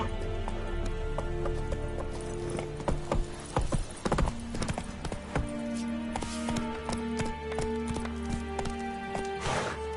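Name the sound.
horse galloping in video game The Witcher 3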